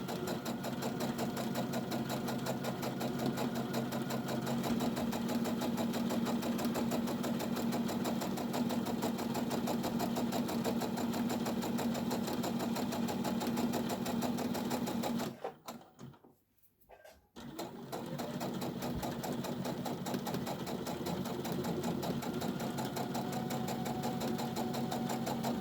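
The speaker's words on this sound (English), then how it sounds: "going to sew down the side, down the bottom, and back up the other side" Sewing machine running steadily while stitching the side and bottom seams of a tote bag, a continuous mechanical hum that briefly stops and then resumes, with no talk.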